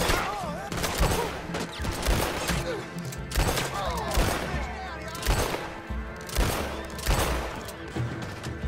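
LeMat revolver shots from Red Dead Redemption 2 go off as a run of heavy booming blasts, spaced about a second apart, over busy game sound and a voice talking.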